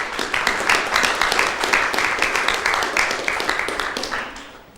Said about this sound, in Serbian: poželite mu i da jedan aplauz